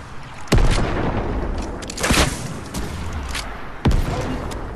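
Gunfire shooting down a rocket in a video game, a few heavy booming shots spaced apart over a constant loud rumbling battle din.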